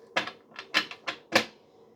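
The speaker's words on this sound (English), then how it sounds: "Shuffle the deck and grab some more cards" A deck of tarot cards being shuffled up close: five short, crisp riffling bursts in an uneven rhythm, each a quick papery flutter, with quiet gaps between and no talking.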